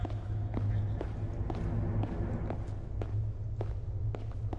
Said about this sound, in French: J'entends des bruits de pas. C'est effrayant.